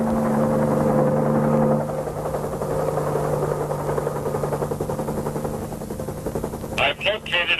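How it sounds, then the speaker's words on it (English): A helicopter's rotor chop and engine drone throb steadily, with rapid rhythmic pulsing through the middle and a few sharp bursts near the end. "that chopper makes nearly as much noise as that preacher man"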